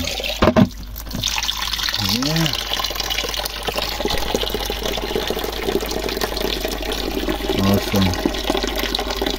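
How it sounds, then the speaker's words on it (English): Water runs steadily at a natural village spring in Kenya, a continuous close splashing flow with a few brief bumps and faint voices in the background. "So this is a natural spring."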